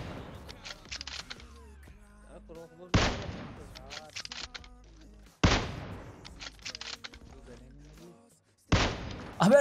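Gunfire in the BGMI/PUBG Mobile shooter during a sniper-only match in a city area: several loud, sharp bursts of shots spaced a few seconds apart, with rattling echoes and a voice talking in between.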